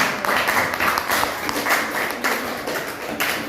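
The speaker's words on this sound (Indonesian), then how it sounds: "kita berikan tepuk tangan ya, plus buat kelompok yang menang" Schoolchildren in a class applaud the winning group, a brisk, close patter of many hands with a few louder taps and thuds mixed in.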